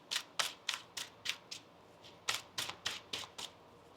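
Tarot cards shuffled by hand in a quiet room, a crisp, close run of rhythmic riffling snaps, about a dozen evenly spaced bursts with a brief pause midway.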